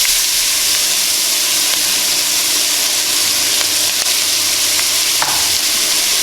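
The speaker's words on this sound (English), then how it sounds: "let's go ahead and add our onions" Onions hit a hot pan for an oxtails and gravy dish, giving a loud, dense, unbroken sizzle with faint crackles and no voices.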